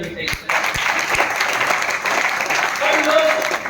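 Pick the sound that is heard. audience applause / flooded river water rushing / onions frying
audience applause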